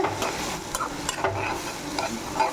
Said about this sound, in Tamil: அதையும் நல்லா வதக்கிக்கலாம். நல்லா பச்சை வாசனை போகிற அளவுக்கு வதக்கிக்கோங்க